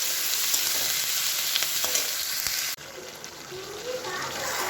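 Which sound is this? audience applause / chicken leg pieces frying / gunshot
chicken leg pieces frying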